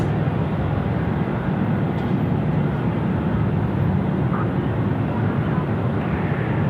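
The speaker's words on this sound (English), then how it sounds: "Tell you what, the afterburners full glow there." Jet aircraft running with afterburners lit at Sydney Airport at night, a loud, steady broadband roar that holds constant throughout without pause.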